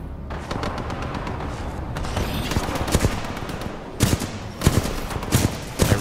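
A turret in Titanfall 2 lays down rapid automatic gunfire, a continuous rattling stream of shots punctuated by heavier, louder bursts toward the end, close and intense throughout.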